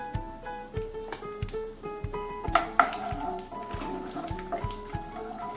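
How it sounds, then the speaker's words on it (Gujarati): Cumin seeds, cloves and peanuts sautéing in hot oil for corn khichdi, a steady soft sizzle with a spoon stirring and clinking against the pan at close range. "આ બધી વસ્તુઓને આપણે તેલમાં સાંતળી લઈએ"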